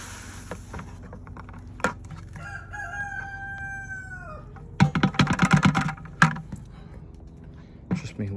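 Backyard chickens with a rooster crowing once in a long drawn call, followed by a burst of loud clucking and squawks nearby amid quiet handling noises.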